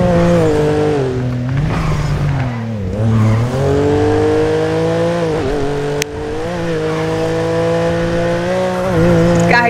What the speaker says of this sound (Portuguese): É que tá muito rápido esse carro aqui